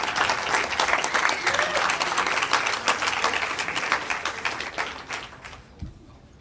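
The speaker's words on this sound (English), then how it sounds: "So let's have a round of applause for the audiovisual guys for doing their work." An audience at a hacker conference talk claps for the audiovisual crew, dense sustained applause that tapers off into scattered claps near the end, with no voices over it.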